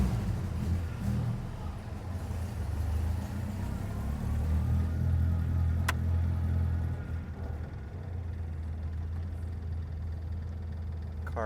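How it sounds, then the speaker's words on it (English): A 1960 Bugeye Sprite engine idles steadily inside a tunnel, a low, even rumble with a booming echoey quality that holds for the whole stretch with little change. "Car idles nicely."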